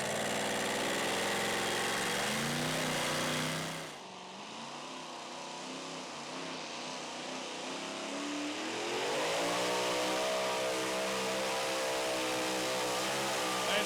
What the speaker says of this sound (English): Tony took his time coming out of the hole, but when he decided to go with it, man, he definitely stepped on the throttle hard